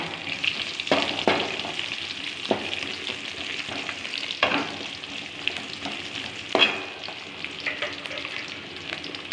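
Garlic sizzles in a pan for a mustard curry, a continuous crackling fry with sharp bursts of spatter and occasional stirring scrapes, close and fairly loud with no talking.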